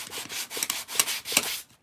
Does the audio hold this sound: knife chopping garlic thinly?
no